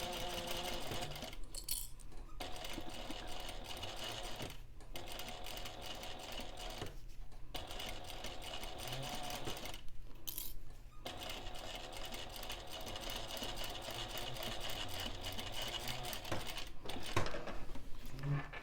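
A sewing machine runs in long steady bursts, stitching piping onto a Loule bag, with brief pauses between runs; the motor hum is close and continuous.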